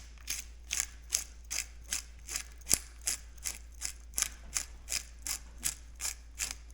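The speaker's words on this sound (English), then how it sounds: "with the pepper, we're gonna do some cranks on here" A hand-cranked pepper grinder turns steadily, giving a close, quiet, regular ratcheting crunch of about fifteen even clicks over a faint low hum, with no talking.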